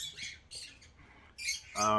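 A pet bird squawks in the background of a room during a Coke versus Pepsi taste test, several faint, scratchy high calls in short bursts, ending with a louder, clearer squawk.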